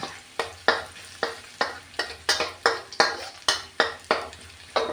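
A metal spatula scrapes and knocks rhythmically against a wok while garlic stir-fries in oil at the start of a Thai dish of luffa gourd with egg, about a dozen sharp strokes over a soft sizzle.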